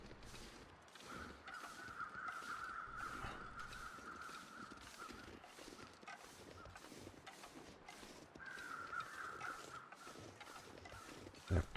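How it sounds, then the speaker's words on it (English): In The Long Dark survival game, a group of crows caws near a rocky slope, repeated harsh calls in two clusters over a steady wind-like backdrop, moderately loud with no talking. "There's a set of crows up here."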